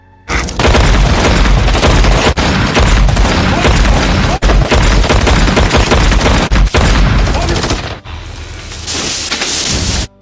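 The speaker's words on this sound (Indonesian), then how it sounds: "Tanpa pikir panjang, mereka pun langsung menembaknya." Dense, loud gunfire from a film scene: rapid bursts and booming shots fill most of the clip and cut off abruptly near the end, leaving a quieter rumble.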